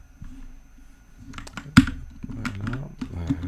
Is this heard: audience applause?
no